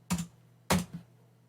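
Two separate clicks on a computer keyboard, close and quiet, as a git command is typed, with a short pause between them in an otherwise silent room.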